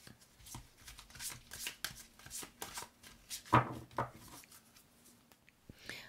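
Tarot oracle cards shuffled close by in a run of soft, quick riffling and slapping strokes that rise and fall, with one louder thump midway and no talk over it.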